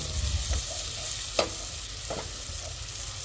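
Garlic and onion frying in a pan give a continuous close sizzle, with a few brief scraping stirs breaking through the steady crackle.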